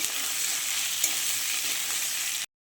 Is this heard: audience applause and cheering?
no